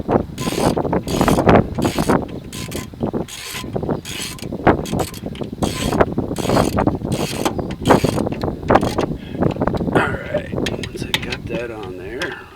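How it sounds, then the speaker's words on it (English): A socket wrench ratchets during brake work on a 1998 Honda Accord, with bursts of quick, close clicking strokes repeating in uneven runs, mixed with some talk. "So get my socket wrench here"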